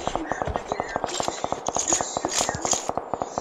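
Rapid rounds of gunfire in the video game PUBG crack out in quick, regular succession, with a voice talking over the shots.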